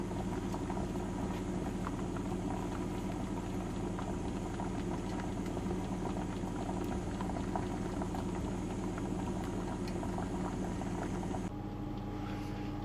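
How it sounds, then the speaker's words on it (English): Wax bubbling as it melts and boils in a bain-marie, a steady close churning hiss with faint patter, continuous throughout and dropping slightly near the end, with no voices. "we'll be melting the wax in a bain-marie"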